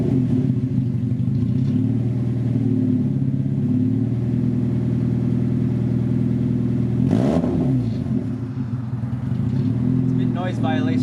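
A Mazda Miata NA6 engine revs with no exhaust installed, giving a loud, steady rumbling drone that holds for the whole stretch, with a brief rise and fall in pitch partway through.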